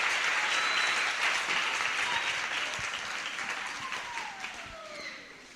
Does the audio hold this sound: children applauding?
yes